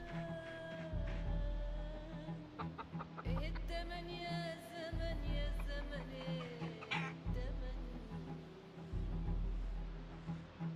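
Chickens cluck inside a hen house in the video game Project Zomboid, with steady rhythmic in-game background sound beneath the repeated soft clucks and no talk.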